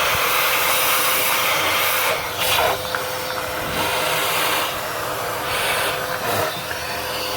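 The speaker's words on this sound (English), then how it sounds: "So I'm gonna get my little shop vac and vacuum that out." A small shop vac sucks debris out of a spark plug hole on a 2005 Toyota RAV4 engine, a loud continuous whooshing hiss with slight pitch changes as the nozzle moves, no voices.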